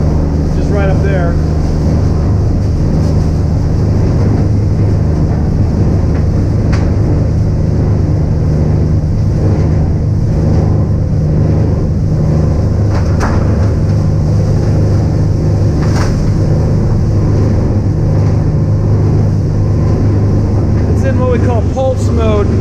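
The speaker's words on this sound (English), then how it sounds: "So the ram's driving the material now towards the rotor, just right up there." A ZERMA ZCS 1400 size reducer shreds plastic film as its ram pushes material into the rotor, giving a loud, steady industrial roar with a low hum and occasional knocks throughout, and faint talk underneath.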